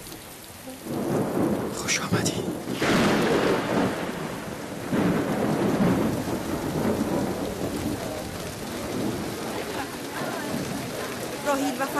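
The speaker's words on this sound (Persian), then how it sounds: "باران را بنگر که قحطی را از فدان می‌زداید." Heavy rain pours steadily with repeated rolls and cracks of thunder in a thunderstorm, loud and enveloping, while a voice speaks briefly over the downpour.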